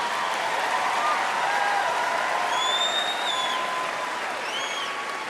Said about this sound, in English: Listen to this applause break.